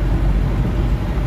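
A car cruises along a highway on a long Nagpur-to-Chennai drive, giving a steady, loud low rumble of engine and road noise with no breaks.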